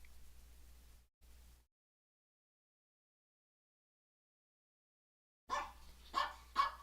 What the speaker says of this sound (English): Freddy, no barking